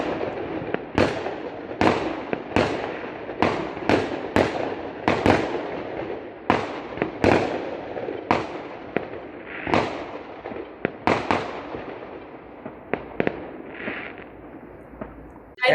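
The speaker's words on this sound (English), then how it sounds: "there were some firecrackers here, and oh wow! You can hear them in the distance there." Firecrackers bursting in the distance over a city, a long irregular series of sharp cracks and pops, some in quick clusters, echoing faintly with no talking.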